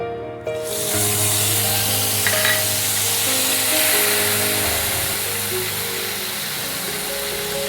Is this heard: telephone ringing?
no